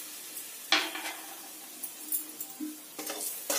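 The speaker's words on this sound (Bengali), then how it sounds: "বেসনটা খুব ভালো করে ভেজে নিতে হবে।" Gram flour (besan) fries gently in hot ghee over very low heat, a faint soft sizzle broken by several light scrapes and knocks of the spoon stirring the pan.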